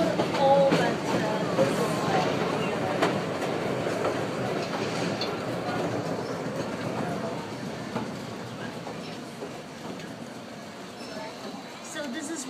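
A historic 1903 BRT gate car rides the rails between Ocean Parkway and Brighton Beach, a continuous rolling rumble with faint clickety-clack and wheel noise, while passengers talk over it.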